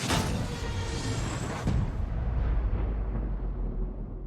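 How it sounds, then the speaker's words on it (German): A huge explosion in Horizon Forbidden West, a loud, broad roaring blast that swells at the start, jolts again partway through, then rumbles on and slowly fades with a deep low tail. "Atombombe. Ganze Welt explodiert."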